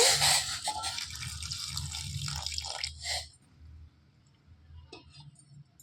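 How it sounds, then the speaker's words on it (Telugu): Indian gooseberries (amla) being washed in a bowl of water: sloshing, splashing water with a few light clinks of fruit for about three seconds, then quiet with a faint drip or two, no talking. "ఈ ఉసిరికాయలన్నింటినీ బాగా నీళ్ళలో వేసి కడిగేసుకోవాలండి"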